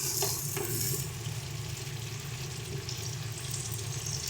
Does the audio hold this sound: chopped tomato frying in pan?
yes